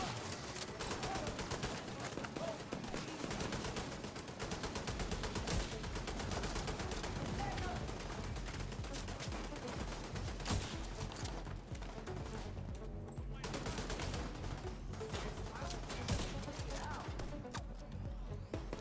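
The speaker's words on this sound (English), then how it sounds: "that turret just wailing on me" A turret in The Division 2 fires long, dense bursts of automatic gunfire, loud and sustained throughout, with other combat noise mixed in.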